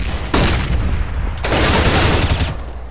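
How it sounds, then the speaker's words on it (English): Flashbang grenade in a competitive first-person shooter game, a loud burst followed by a sustained ringing hiss and a second sharp onset, dominating the brief stretch. "Deploying flashbang."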